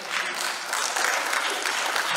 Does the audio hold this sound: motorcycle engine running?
no